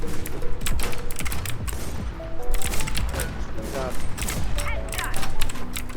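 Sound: gunfire from the video game Warz

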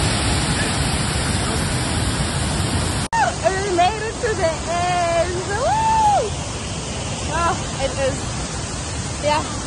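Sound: waterfall rushing water

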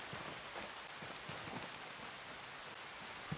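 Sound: rain in video game Ghost Recon Breakpoint

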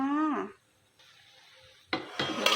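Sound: stirring salt-baked shrimp in a pan

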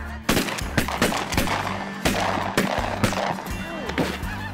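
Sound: shotgun gunshots during duck and goose hunt

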